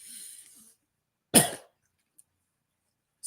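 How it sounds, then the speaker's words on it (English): A single sharp human cough near the mic, with a faint breathy sound before it and a small click after, otherwise quiet. "Excuse me, I had to cough."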